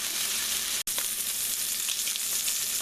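Steaks sear in a cast iron pan with a loud, continuous close-up sizzle that cuts out for an instant and then resumes, with no talking.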